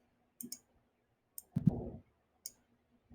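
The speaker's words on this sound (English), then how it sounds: "Now if I click the green button, I'm going to get this guy back to where he belongs." Quiet mouse clicks on an on-screen green button, a few isolated sharp taps spaced apart, with a soft thump and shuffle in the middle of the sequence.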